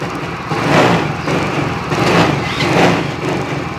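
Yamaha Soul GT 125 motorcycle with a power-loss fault, its engine revving in repeated uneven surges and dips, close and loud with no talk.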